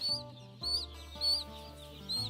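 Chickens clucking inside a crowded factory farm broiler shed, with repeated bursts of calls rising over a steady tonal ventilation drone.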